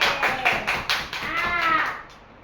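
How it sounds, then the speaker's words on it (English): Children in a classroom clap together in a quick, irregular burst of close, sharp hand claps that fades out after about two seconds. "Give yourself a big clap for your friend."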